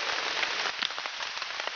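Steady rain patters on a tarp overhead, a dense continuous hiss with scattered individual drops tapping close by, heard alone without any voices.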